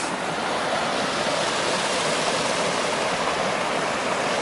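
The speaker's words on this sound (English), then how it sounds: "Oh, lots of stream crossings." Mountain stream flowing across a trail crossing on the Pacific Crest Trail, a steady close rushing wash of water with no breaks, alone throughout.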